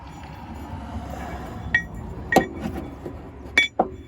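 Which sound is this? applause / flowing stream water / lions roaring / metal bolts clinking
metal bolts clinking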